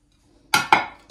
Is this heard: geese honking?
no